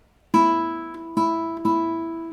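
Classical guitar string plucked with the nail sliding from its edge to the center, three clear ringing notes alone, each attack sharp and decaying, with a faint fourth pluck at the end.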